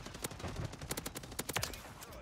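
Rapid automatic gunfire from an ACR rifle in Warzone, a fast burst of sharp cracks in quick succession with a few spaced shots, fairly close and loud, no voices.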